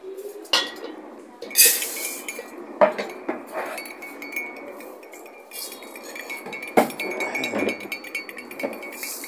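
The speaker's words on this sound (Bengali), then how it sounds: "একটু ভালো করে লাড়াই নিতেছি।" A metal spoon stirs sugar into tea in a cup, with sharp clinks against the rim at irregular intervals and softer scraping and swirling between them, close and clear.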